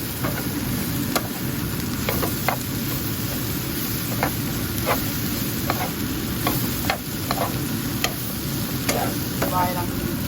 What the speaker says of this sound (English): So let's add the okra. So saute this.